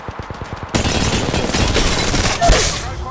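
Rapid gunfire in the mobile shooter Apex Legends Mobile: a short burst of distinct shots, then a dense, loud fusillade that fills the rest of the moment.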